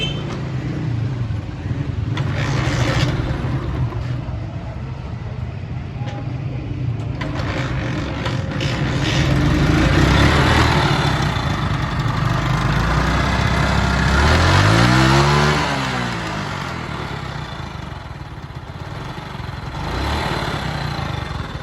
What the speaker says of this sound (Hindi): मोटरसाइकिल को स्टार्ट करेंगे और दिखाएंगे कि मोटरसाइकिल के साउंड वगैरह के आपको सुनवाएंगे